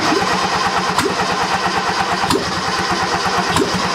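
The engine of a 1977 F10 truck cranks on choke, with repeated rhythmic starter churning and brief catches, loud and close, with no voices.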